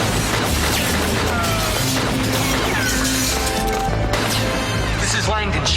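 Gunfire in a tense police-chase TV drama scene, sharp shots and crashing impacts amid dense music and effects, with voices talking through the action.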